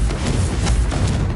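A Confringo fire spell from Hogwarts Legacy strikes as a dense, roaring burst of fiery blast noise, loud and sustained across the moment with rumbling low thuds beneath.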